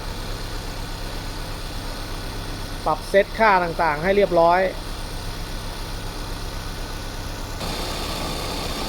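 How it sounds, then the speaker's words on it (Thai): A Mazda Familia car engine idles steadily throughout, a low continuous rumble, with someone speaking briefly over it in the middle. "เสียงเครื่องยนต์ ทำงานปกตินะฮะ"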